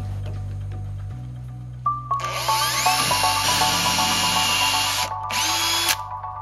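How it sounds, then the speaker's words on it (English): A power drill whines up to speed and bores steadily for several seconds, pre-drilling holes for 6x80 screws while building an observatory roof, pitch shifting as it bites, with a brief stop near the end. "So I'm going to pre-drill the holes."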